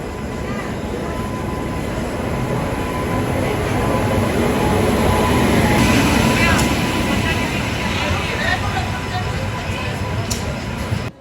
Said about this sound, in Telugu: మన ట్రైన్ వస్తుంది ఏబీ ఎక్స్ప్రెస్